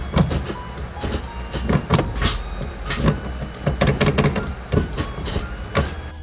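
A series of sharp mechanical clunks and clicks from notchy manual gear shifts in an Acura RSX with a short shifter, irregularly spaced over a low steady hum.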